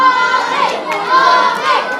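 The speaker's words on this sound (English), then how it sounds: "hopefully the fans at home are hearing us over this loud capacity crowd" A loud capacity crowd at a 605 Championship Wrestling show in Clarksburg, West Virginia cheers and shouts continuously, a dense roar of many voices filling the hall.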